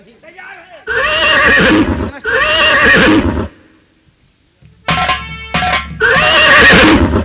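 A horse neighs loudly and close in several long, shaky whinnies separated by brief pauses. A short stretch of lower rumbling comes between the calls.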